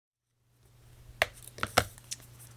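Paper being creased with a bone folder while assembling a handmade paper tote bag: a few soft, sharp scraping strokes and taps, close and quiet, with no talking.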